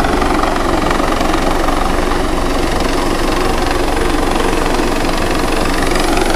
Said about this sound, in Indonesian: inilah detik-detik Super Puma parkir